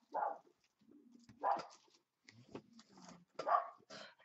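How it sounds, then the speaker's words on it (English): A dog indoors gives a string of short barks and whining yelps, four main bursts spaced about a second apart, fairly close and clear, with no one talking. "Damn dog."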